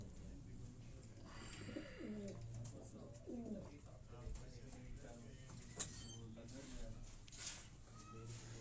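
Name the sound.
pigeons cooing, high-flying pigeons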